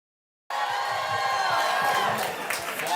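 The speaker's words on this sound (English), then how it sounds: "You're gonna fucking clap your hands off" After a short silence, a comedy club audience at a live standup show breaks into sustained applause mixed with cheering and whoops, a steady wash of crowd noise that continues to the end.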